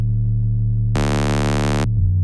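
A synth bass patch built in Ableton Operator from square, saw and sine waves gives a steady, loud low tone that stays alone throughout, and a bright, harmonically rich burst opens up in the middle before the tone settles back.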